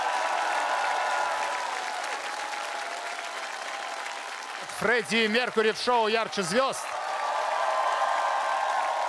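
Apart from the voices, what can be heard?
audience applause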